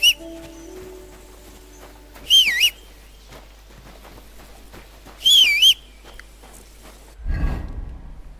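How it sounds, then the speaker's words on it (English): A character whistles in the medieval action role-playing game Kingdom Come: Deliverance II, two short warbling whistled phrases a few seconds apart over a quiet background, followed by a low rumbling thud at the end. "Stop that whistling."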